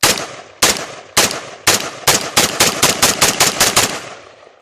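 Rapid string of about thirteen sharp rifle shots from a 300 Blackout AR build firing 150-grain rounds, starting spaced then quickening into a fast, even cadence, loud and close with short ringing decay.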